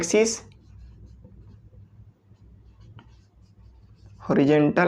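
A pen or marker scratches softly on a board during a surveying lesson, a faint, steady writing sound between stretches of someone speaking at the start and end.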